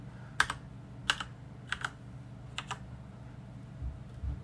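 Keys click on an ASUS ROG Strix Flare mechanical keyboard, a handful of sharp, irregular key presses, some in quick pairs, over a faint low background hum.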